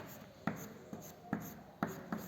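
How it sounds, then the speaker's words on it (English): Rhythmic strokes of writing on a classroom board during a chemistry lesson, several quick scratchy marks in a steady pattern, close and fairly quiet, with no talking. "So first we write benzaldehyde."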